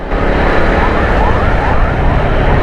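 A fire brigade truck's siren wails on a busy Karachi street, loud and close over heavy traffic roar, sustained without a break.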